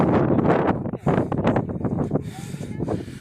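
Strong wind buffets the microphone in loud, rough gusts on a road trip from Valparai to Thalanar, with an indistinct voice partly buried under the roar.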